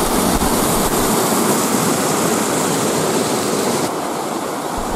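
Roaring waterfall of a small canyon in Aspromonte, heard from above: a loud, continuous wash of falling water with no breaks, steady throughout and free of talk.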